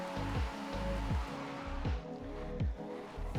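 A 1990 Aston Martin Lagonda in Forza Horizon 5 with its back tires spinning loose. A steady engine drone carries a rough, pulsing tire squeal, with repeated dips in pitch as it struggles for grip.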